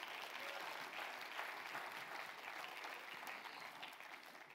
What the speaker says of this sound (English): clap your hands if you believe that.